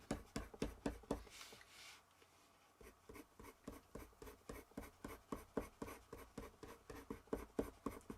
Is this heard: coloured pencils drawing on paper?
yes